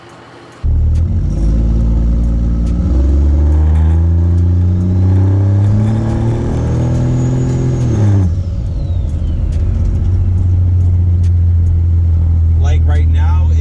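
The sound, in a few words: 12 valve Cummins diesel truck with FTE resonator exhaust driving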